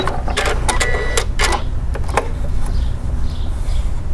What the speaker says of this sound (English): So this is just some quilting cotton. And you'll see again, it's going to give us a very precise straight stitch.